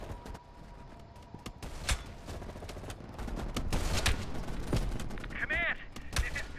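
Rapid gunfire crackles through a Call of Duty: Black Ops Cold War firefight as sharp shots and bursts pile up over several seconds, with a voice speaking over the action.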